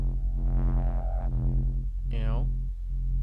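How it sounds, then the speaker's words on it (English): Viking drone synth soaked in heavy Eventide reverb, a dark sustained low drone with shifting mid tones and a swirling, sweeping upper texture, dense and continuous with no talking. "So the only thing is this Viking drone here"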